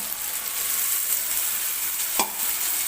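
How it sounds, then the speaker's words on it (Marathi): Cooked chickpeas tipped into a pan of frying onion-tomato masala, a steady oily sizzle throughout with one brief louder splash and stir partway through, no voices. "आता त्याच्यामध्ये आपण हे शिजवून घेतलेले छोले टाकून घेऊया"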